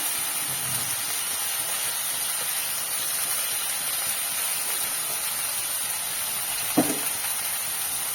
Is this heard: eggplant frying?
yes